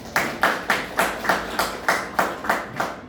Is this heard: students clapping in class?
yes